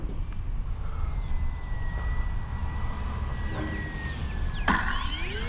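A Kavan Bristell B-23 RC model airplane makes a thin motor whine that holds steady and shifts pitch as it passes during a touch and go, over steady wind noise outdoors.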